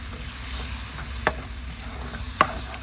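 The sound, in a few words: stirring Bicol Express in a sizzling pan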